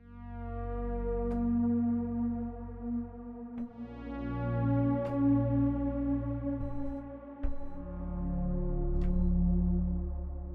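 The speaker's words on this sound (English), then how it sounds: "So if we mix in the wet reverb" Long wet reverb from a Strymon BigSky plug-in blooms behind sparse plucked notes, each attack swelling into a sustained, shimmering wash of harmonics that fills the gaps, with no talking.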